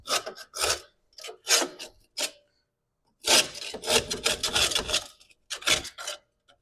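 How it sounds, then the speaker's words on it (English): A screwdriver scrapes rust and debris out of the groove of a car's drum brake, making close, harsh rasping strokes in short repeated bursts separated by brief pauses. "So I just used a screwdriver to clean this groove out."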